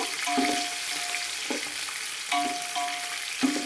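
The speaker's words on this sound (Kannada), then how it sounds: "3 ಈರುಳ್ಳಿ ತೊಗೊಂಡಿದ್ನೆಲ್ಲ ಹಾಕ್ತಾಯಿದ್ದೀನಿ ನೋಡಿ. ಚೆನ್ನಾಗಿ ಕೆಂಪಗಾಗತಕ್ಕನ ಈರುಳ್ಳಿ ಕೊರಿಬೇಕು" Three onions fry in a pan for coconut chicken biryani. A constant sizzle fills the sound, and periodic stirring adds scraping and clattering accents.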